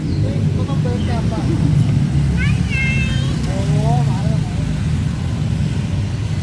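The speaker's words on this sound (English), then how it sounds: "The traffic" Bangkok street traffic rumbles steadily at a market street in Bang Kho Laem, a continuous low engine roar of passing cars and scooters, with someone talking over it throughout.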